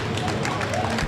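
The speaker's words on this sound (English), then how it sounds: "Why don't we give these guys a round of applause?" An audience applauds at the close of a 2009 Guild Wars 2 artist Q&A panel. The clapping is a short, steady wash of many hands, filling the room at moderate loudness.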